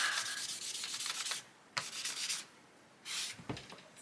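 A colouring pencil rubs back and forth against paper while blending a drawing, giving bursts of dry, rasping scratches separated by short pauses. A faint knock comes from the wobbling desk. The strokes are close and there is no talking.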